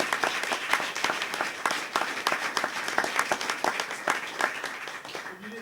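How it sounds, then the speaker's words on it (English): Applause from an audience honoring a high school debate state champion, many hands clapping in a quick, dense patter that fades slightly toward the end, with some speech mixed underneath. "I think that deserves a round of applause."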